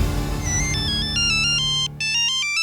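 A telephone rings for an incoming call with an electronic melodic ringtone, a run of bright stepped tones repeating in quick patterns and loud and close, with a short gap before it resumes.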